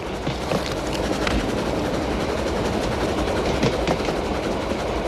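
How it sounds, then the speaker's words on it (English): A train running on rails in Germany, heard from inside the carriage as a loud, steady rumble with faint rhythmic clatter throughout. "You are in a train in Germany."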